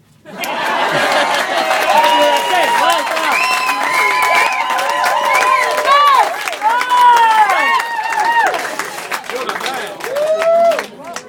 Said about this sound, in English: Before we start, we just get a big round of applause